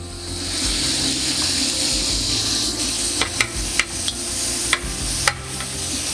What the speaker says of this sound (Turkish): ortasını açıyorum tavanın ya da saçın ne kullanıyorsak kenarını biberleri ekliyorum